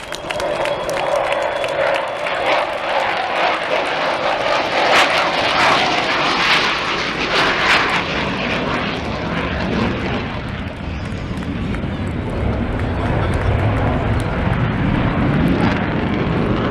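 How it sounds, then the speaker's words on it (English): Avro Vulcan XH558 delta-wing bomber making its final display pass at the 2015 Rhyl air show in North Wales, a loud, sustained jet roar swelling and rumbling overhead with a crowd applauding beneath it. "This is the final pass of the final display here at Rhyl by Vulcan"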